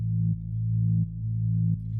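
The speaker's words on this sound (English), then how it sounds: "Got this synth pulse." A stock Omnisphere synth pulse with a sidechained feel: a steady, moody low tone that ducks in volume about every 0.7 seconds, giving a pumping rhythm, heard alone.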